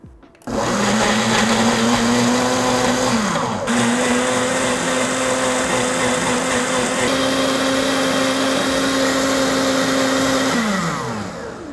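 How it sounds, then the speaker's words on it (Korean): A kitchen blender blends an avocado and kale smoothie sweetened with honey, its motor whining loud and steady for about eleven seconds, dipping briefly in pitch partway through before spinning down at the end. "그리고 이제 믹서기에 넣고 돌려주면 끝입니다."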